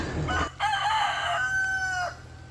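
A rooster crows once, a long drawn-out call that rises and then trails off, heard up close with no other sounds.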